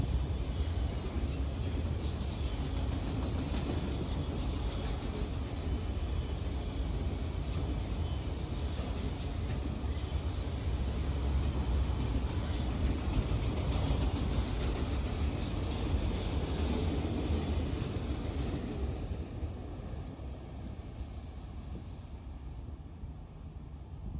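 Freight train with Southern Pacific and Kansas City Southern auto rack cars rolls past at Norfolk Southern's Emory Gap, a loud, steady broadband rumble of wagons that eases slightly in the final seconds.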